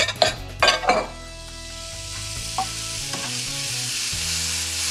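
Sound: shrimp heads frying with celery and garlic

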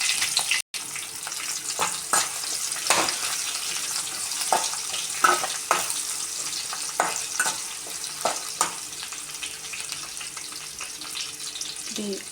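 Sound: onions and green chillies frying in a pan

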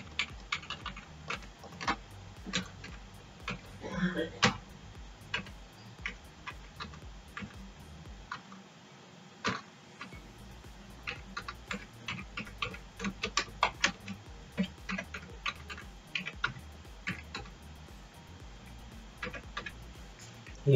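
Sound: computer keyboard typing a contact number in Microsoft Word

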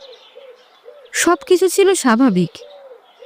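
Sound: bird calls, cooing pigeons

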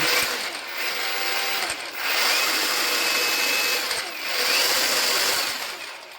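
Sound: cordless angle grinder running

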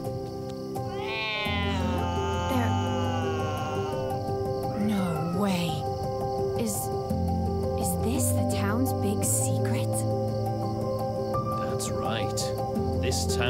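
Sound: cats meowing in video game The Good Life

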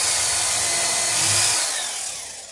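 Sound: drill drilling wood

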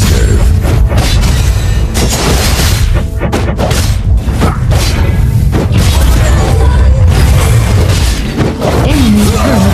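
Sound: enemy turret destroyed in League of Legends: Wild Rift video game

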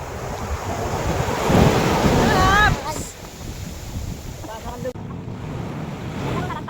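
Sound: big ocean waves crashing

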